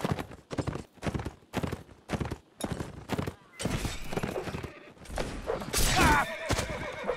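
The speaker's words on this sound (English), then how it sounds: "there's a horse over here" Video game horse: rapid rhythmic hoofbeats followed by louder bursts including a whinny, amid game combat noise.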